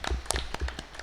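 Congregation at a Catholic church service in Tamil Nadu clapping to welcome a guest, a short burst of scattered, fairly close handclaps of uneven rhythm.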